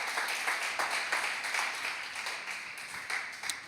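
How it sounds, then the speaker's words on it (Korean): Congregation applause at a Friday worship service in a church, a steady wash of many hands clapping at moderate distance, continuous with a few sharper peaks and no speech. "우리 주님께 영광의 박수 올려드리겠습니다."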